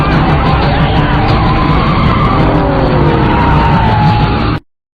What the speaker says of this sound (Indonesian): Jang segera memacu mobilnya.